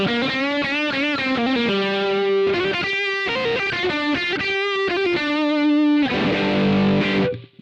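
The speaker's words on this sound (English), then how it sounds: "This unit has a simulation of a treble booster, so you go to the OD block and select treble boost" Electric guitar through a Boss GT-100's treble booster simulation: bright, saturated melodic lead notes sustain in a steady phrase, ending with a denser chord swell that cuts off abruptly, with no talking.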